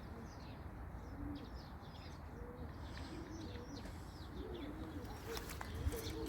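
Domestic pigeons in a loft coo softly, low repeated rolling calls that sit faint and distant beneath steady background hiss, with a few brief sharper sounds near the end.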